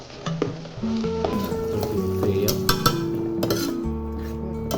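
A spoon stirs chicken manchurian with soy sauce in a pan, soft scraping and light clinks against the metal over a low sizzle, close and steady for a few seconds.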